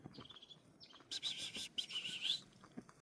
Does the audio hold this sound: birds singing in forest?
yes